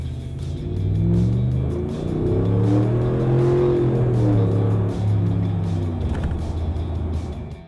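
A 2019-2021 RAM pickup truck engine accelerates and revs through gears, pitch climbing and dropping repeatedly, heard close and fairly loud with steady road noise underneath.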